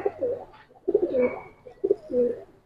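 Giribaz pigeons, a silver variety, coo nearby in three clear, rolling phrases with short gaps between, moderately quiet and without talk.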